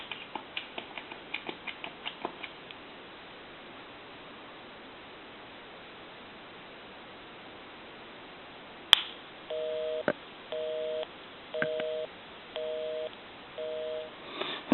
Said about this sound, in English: I want to dial my telephone number and the line will be busy.